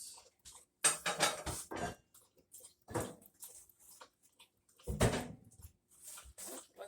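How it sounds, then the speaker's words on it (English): A log is loaded into the firebox of a wood stove used for cooking, giving a few sharp wooden clunks and knocks in short bursts with quiet gaps between, close by. "So I'm going to add another log."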